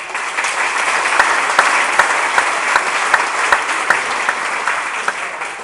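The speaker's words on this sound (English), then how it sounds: "he deserves this round of applause" Steady audience applause at a gala event held in a parish center, dense crowd clapping filling the room at a loud, even level with a few sharper claps standing out, no talking over it.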